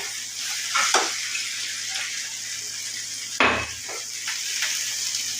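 Okra fries in a little oil in a pan over a gas flame, giving a steady close sizzle with a few clinks of a utensil against the pan.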